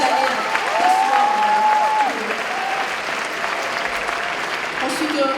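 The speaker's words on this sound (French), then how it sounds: "Donc, on peut l'applaudir bien fort." Audience applause for a contestant at a cosplay competition, a steady wash of clapping from a crowd with a host's voice briefly audible over it.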